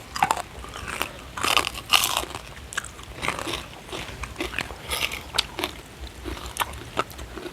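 Someone bites and chews crispy freshly fried pork belly alongside a spicy rice-noodle salad with stink beans, giving loud, close crunches and wet chewing in bursts, with no speech.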